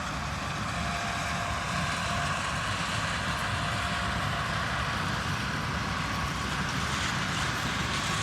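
A Niva SK-5 combine harvester threshing drought-damaged soybeans in the field: a loud, steady engine and machinery drone with a constant rumble and mechanical clatter, continuing unbroken with no talk.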